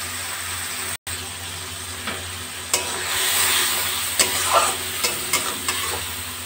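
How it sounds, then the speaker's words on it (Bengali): Spice paste frying in hot oil in a pan over a gas flame, a steady loud sizzle and hiss with occasional scraping stirs and sharp crackles, and no one speaking. "যতক্ষণ না তেল বেরিয়ে আসবে মশলাটা আমার ভাজা ভাজা হবে"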